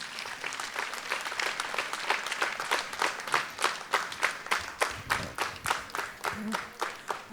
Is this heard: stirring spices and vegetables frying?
no